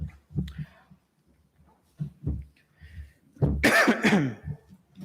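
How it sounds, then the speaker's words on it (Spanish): A man in a church sermon setting coughs and clears his throat several times in short, close bursts, with one louder, rougher cough near the end and quiet gaps between them. "Esa tos me pica la garganta nomás"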